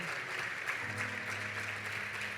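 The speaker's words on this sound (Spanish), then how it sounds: "Quiero pedirles un fuerte aplauso para nuestros invitados de esta noche" A studio audience applauds the evening's guests on a Spanish-language talk show, a steady, even wash of clapping lasting a couple of seconds at fairly low volume.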